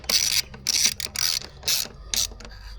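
Ratchet wrench clicking as it tightens a bolt on a Mk7 Golf's intake elbow, four or five close bursts of rapid metallic ticks with brief pauses between strokes.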